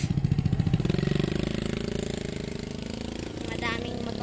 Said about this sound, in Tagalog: Madaming motor.